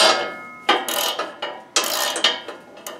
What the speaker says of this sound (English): I'll take out the shear bolt on the right auger.